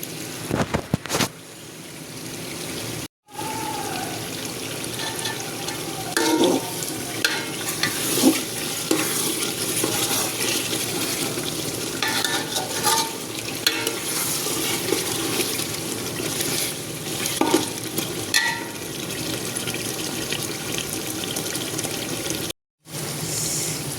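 Meat sizzling in released oil as it is stirred in a pan for a Sunday lunch, a steady close crackle with scraping and stirring strokes throughout, broken by two brief silent gaps.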